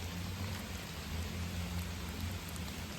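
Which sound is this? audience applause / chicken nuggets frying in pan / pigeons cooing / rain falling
rain falling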